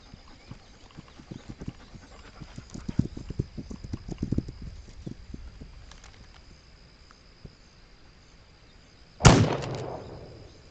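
Horse hooves in a video game clip-clop in an uneven rhythm, loud at first then fading into the distance, followed by a sudden sharp burst near the end.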